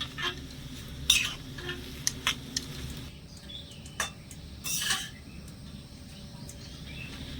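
Jackfruit chop filling stirred and mixed in a pan, with scattered clinks and scrapes of a utensil against the pan over a low steady background, fairly faint and without talk.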